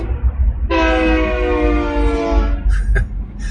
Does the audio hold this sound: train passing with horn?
yes